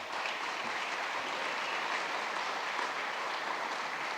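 Audience clapping at a city State of the City address, a dense, steady patter of many hands, even and sustained throughout.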